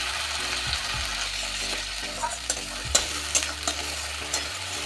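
Onion paste frying with ginger and garlic in a pan gives a soft, continuous sizzle, with a few sharp utensil taps and scrapes in the second half.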